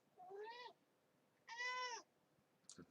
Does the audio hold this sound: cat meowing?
yes